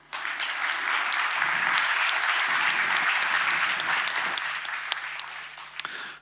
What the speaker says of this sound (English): So I think we should thank all those speakers this session again with an applause.